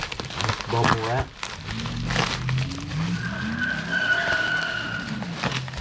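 Cars skid and squeal somewhere out in a residential neighborhood, a sustained tire screech heard at a distance outdoors, with someone speaking nearby over the start.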